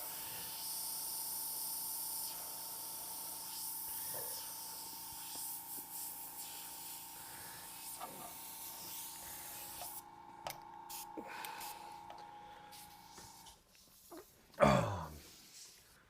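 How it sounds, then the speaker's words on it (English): An airbrush blows paint through a cut cotton-swab tube fitted over its nozzle: a steady, close, bright hiss that later breaks into shorter spurts, with a sharp knock near the end. "put it over your nozzle like this, blow the paint through it, and you can actually direct where each dot goes"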